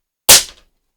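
A single sharp air rifle shot, a Diana P-five or Snow Peak SP500 fired during a chronograph velocity test, snaps loud and close, then decays within a fraction of a second.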